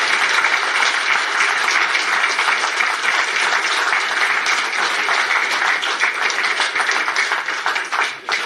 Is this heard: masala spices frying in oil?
no